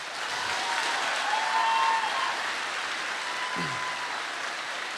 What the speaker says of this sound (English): Let's give them a big hand